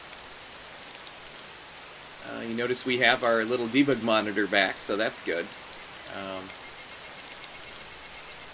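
Steady, soft rain falls in the DayZ survival game as a constant hiss, while someone talks over it for a few seconds in the middle.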